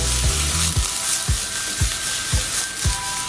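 Onions fry in a pan under a steady sizzling hiss, with a regular series of low thumping scrapes about every half second as they are stirred, and nobody speaks.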